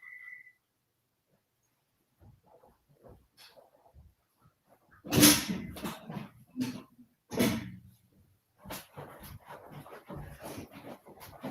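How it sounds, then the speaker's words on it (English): A dog moves around close by indoors, with soft whimpers, panting and scuffling noises in irregular bursts amid quiet stretches. "Oh, hi, baby dog"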